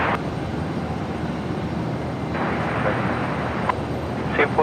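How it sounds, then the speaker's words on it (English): A Boeing 747 being pushed back and towed at Brisbane Airport, its engines giving a steady distant roar and whine against airport background noise. "the 747 pushing back from Bay 87, being towed away to Lima 4"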